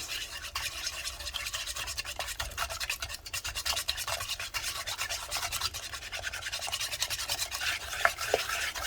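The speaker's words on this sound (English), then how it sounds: "we're just getting those eggs stirred in nice and quickly, one at a time" A beater working eggs, added one at a time, into a one-pot brownie batter: a continuous close scraping, rubbing stir with a fast even rhythm and occasional light clicks against the bowl, no talking.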